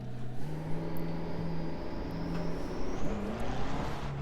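A McLaren 720S engine in the racing game Assetto Corsa Competizione at Donington Park holds a steady, droning note with small pitch shifts, continuous and fairly loud throughout.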